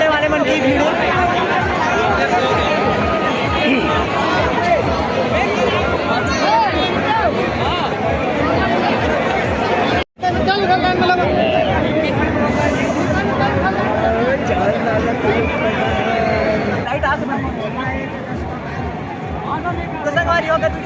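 Dense crowd chatter at a busy fair with rides, many overlapping voices forming a loud, continuous hubbub close by, broken by one brief cut of silence midway.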